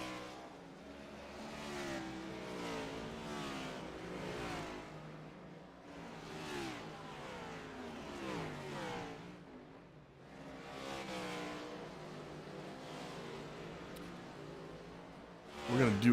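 Race cars circle the Bristol dirt track, their engines revving and rising and falling as they pass. A commentator talks over the racing, and a sharp burst is heard near the end.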